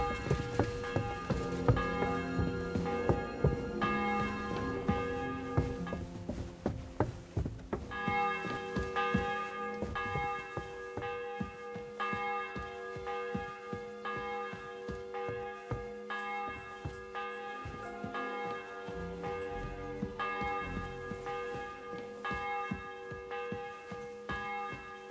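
Church bells tolling in a medieval Bohemian town in Kingdom Come Deliverance 2, rich overlapping peals ringing steadily and resonantly for a long stretch, with brief soft clicks and gaps between strikes.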